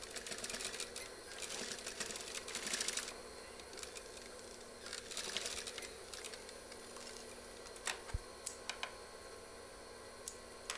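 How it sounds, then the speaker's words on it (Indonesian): Sewing machine stitching school trousers from the inside, a fast steady mechanical whirring in bursts with pauses, ending in a few sharp clicks, close and fairly quiet. "lalu kita jahit dari dalam"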